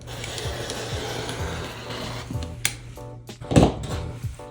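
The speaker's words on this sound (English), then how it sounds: "I'm gonna go ahead and I'm gonna cut my ½ yard" Rotary cutter slicing through a half yard of quilting fabric on a cutting mat, soft scraping and rasping strokes with light taps and clicks from handling, close and quiet, with no talking.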